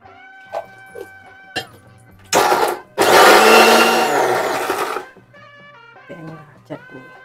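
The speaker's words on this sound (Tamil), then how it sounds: "அதுக்குள்ள சூடாட்ட சட்னி அரைச்சிக்கலாம்" A mixer grinder whirs loudly in two bursts, a short one and then a longer roaring run of about two seconds, as it grinds chutney in a home kitchen, with someone talking before and after.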